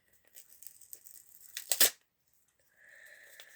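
A paper sticker is peeled off a red paper Valentine's packet in one quick tearing rip, close and fairly loud, after soft crinkling handling, followed by a faint steady hiss.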